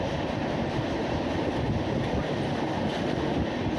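Kerala Rajdhani Express passenger train running through a station on the main line without stopping, a steady loud continuous rumble with faint wheel clatter and wind buffeting, no voices.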